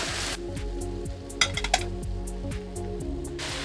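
Chicken with onion, carrot and pepper sizzles quietly in a frying pan over medium heat while a utensil stirs and clinks against the metal a few times, over a low background hum.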